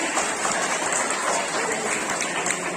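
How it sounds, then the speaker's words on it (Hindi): Applause for children after a yoga session at a school Independence Day event, a steady dense patter of many small hands clapping throughout, fairly even and continuous with no voices standing out. "बहुत तालियों से स्वागत करें बेटा। क्लैपिंग।"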